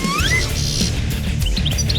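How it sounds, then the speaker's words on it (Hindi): A bird chirps in a few quick, rising tweets, loud and close, over a busy background of cartoon sound. "क्या ये चिड़िया है?"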